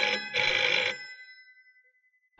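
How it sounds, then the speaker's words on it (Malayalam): An old-style telephone bell rings in two loud bursts, then its tone fades away into silence before a brief sharp sound at the end. "നാശം, നേരം വെളുത്തില്ല അപ്പോഴേക്ക് ഫോൺ കളി തുടങ്ങി."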